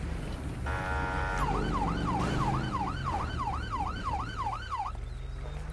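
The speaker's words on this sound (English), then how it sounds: "I think the reason that siren sounds so pathetic is because it's a non-ELS bike." A non-ELS police motorcycle siren in GTA 5 wails in a fast, repeating up-and-down sweep, preceded by a steady electronic tone, loud and close over engine rumble, with no talk.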